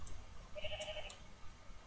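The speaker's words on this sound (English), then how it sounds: "Do I have my 4 pink sheep?" Pink sheep bleating in the Minecraft video game, a couple of short, thin game-sound bleats standing out over a faint, quiet background with no talking.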